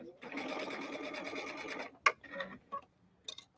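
A sewing machine runs a steady straight stitch through soft cuddle fabric with polyester thread, a continuous close whir of about two seconds followed by a few brief clicks and handling sounds.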